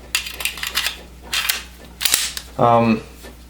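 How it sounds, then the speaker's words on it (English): Sig Sauer P220 pistol's decocker lowering the hammer: a few sharp, close metallic clicks spaced across a few seconds, with a short humming voiced tone near the end. "I love that decocker. I love it that I can just very slowly."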